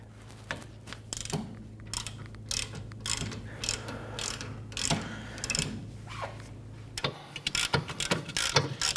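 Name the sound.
ratchet with 14mm socket loosening caliper bracket bolt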